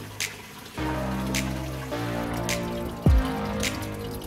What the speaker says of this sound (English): attach a garden hose or water nozzle to the top hose and pump water through the